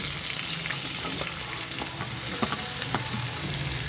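Two onions fry in coconut oil for a chutney, giving a steady, close sizzle and crackle broken by a few sharper pops and utensil scrapes from stirring, with no voices.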